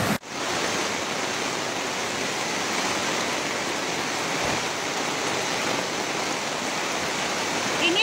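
Floodwater from a flash flood in Malang, East Java, rushes past in a steady, loud, unbroken roar that lasts throughout, with no voices over it.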